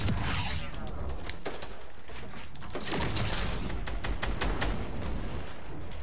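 Rapid gunfire bursts in a Fortnite match, several volleys of sharp cracking shots from nearby, clustered in quick runs with brief gaps, loud and without talk.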